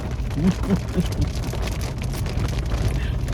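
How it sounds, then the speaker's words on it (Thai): Heavy rain pouring down in a dense, continuous hiss, with a few faint low thuds early on and a murmur of voices underneath. "ฝนตกหนักมาก"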